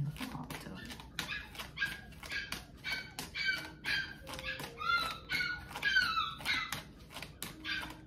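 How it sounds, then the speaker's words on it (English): New puppy barking in quick yips and whimpering in high, repeated cries, close and fairly quiet, in short bursts throughout. "If you hear it as Cola, the new puppy"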